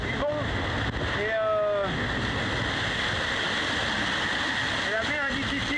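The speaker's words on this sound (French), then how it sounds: "Le vent, la mer, la vitesse, le danger qui se cache derrière chaque vague, chaque rafale" Strong wind and rough waves in the Southern Ocean during the Vendée Globe sailing race, a steady, loud roar of rushing air and water filling the whole clip, with brief voices heard over it.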